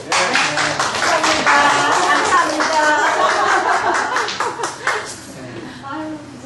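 Applause from a church Bible study group, a dense patter of clapping lasting several seconds with voices mixed in, tapering off near the end.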